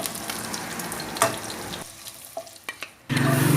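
Tofu fries in hot oil in a pan with a steady, close sizzle that dips briefly near the end before surging back louder and fuller.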